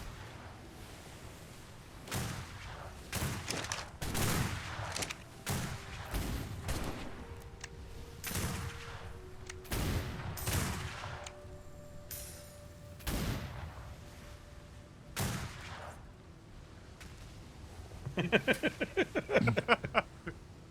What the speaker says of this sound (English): Who just shot a cannonball?